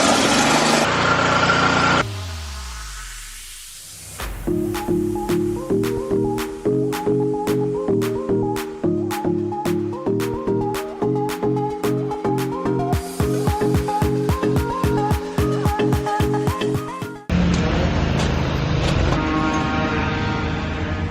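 A gas-engine power washer washes a large rock crusher, its small motor steady and droning with a rhythmic pulsing beat, dipping briefly partway through before running loud and close again.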